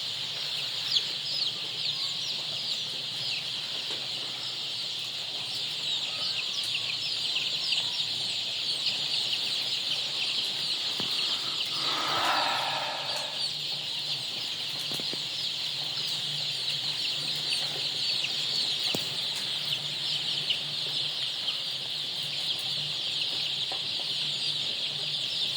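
A brood of mixed Adler and Leghorn chicks fills the space with a steady, dense chorus of high peeping and clucking. It stays even throughout, with one brief louder burst near the middle and no talking.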